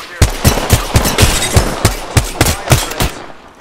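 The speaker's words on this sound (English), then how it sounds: "I'm spotted. Taking fire." Automatic gunfire in the shooter Apex Legends, with a loud, close burst of a dozen rapid, evenly spaced shots, each with a punchy low thump, then cutting off abruptly.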